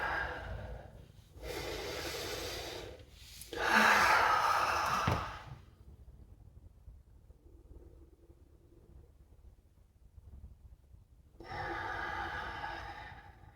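Slow, deep breaths come in long, close, audible waves, each inhale and exhale rushing for a second or two, separated by quiet pauses, with a faint low hum beneath.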